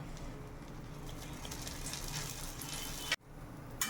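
Thin wheat-dough bhudde sizzle steadily in oil on a hot griddle, a soft continuous frying hiss with small pops that stops abruptly near the end, then resumes briefly; close and quiet, with no talking.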